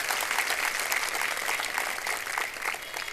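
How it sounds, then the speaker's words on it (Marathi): A large crowd at a Shiv Sena political rally in Malegaon applauds to bless a women's hospital, a continuous wash of many hands clapping, somewhat distant and even throughout. "माझी विनंती आहे की टाळ्या वाजवून त्या रुग्णालयाला आशीर्वाद द्या"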